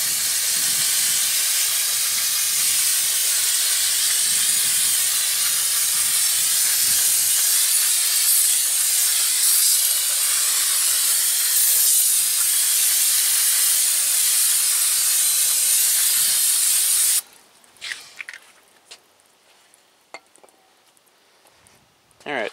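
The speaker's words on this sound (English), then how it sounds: "I'm just going to do a quick spray down" An aerosol can of brake cleaner sprays in a long, loud, continuous hiss for about seventeen seconds onto the rear drum brakes of a 1999 Honda Civic, then cuts off, leaving faint clinks and quiet.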